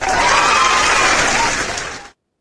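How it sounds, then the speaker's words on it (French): A crowd applauds loudly in a steady wash of clapping that holds for about two seconds, then fades and cuts off abruptly. "On va applaudir."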